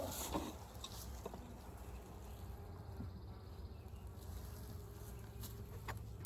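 Dense, steady buzzing of many honey bees swarming around a busy resource hive, heard up close and continuous, with a few faint bumps and knocks in the background.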